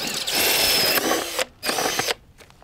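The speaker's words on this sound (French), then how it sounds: "Pour les 6 projecteurs, fais 6 trous dans le tuyau à l'aide d'une scie cloche." A power drill fitted with a hole saw whines loudly as it bites into a pipe, making holes for six spotlights, cutting off briefly, then running again in a short burst before stopping.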